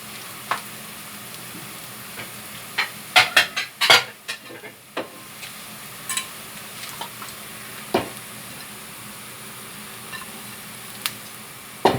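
Steady sizzling of kimchi pancake batter frying in a pan, broken by scattered clinks and scrapes of a utensil against the pan.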